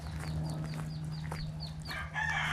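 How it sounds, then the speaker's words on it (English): Lost ducklings chirping on a ranch, a series of short, high, repeated peeps over a steady low hum, with a brighter burst of chirps near the end. "Something's chirping"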